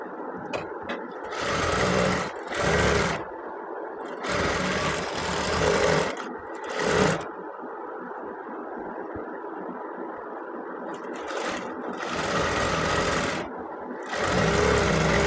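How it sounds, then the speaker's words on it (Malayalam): A sewing machine stitches the neckline of a child's dress, running in several bursts of rapid, close mechanical whirring separated by short pauses, loud and near with no talking. "ഈ ലാസ്റ്റ് ഞാൻ ജസ്റ്റ് തയ്യൽ വിടുന്നുണ്ട് ഇവിടെ"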